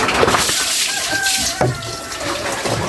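Running water pours and splashes continuously, with brief clatters of items being rinsed under the stream.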